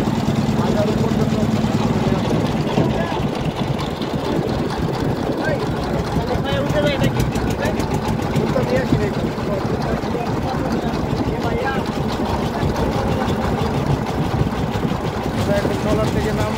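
Trawler boat engine running on the water near a tourist island, a steady low droning hum throughout with voices and crowd chatter over it.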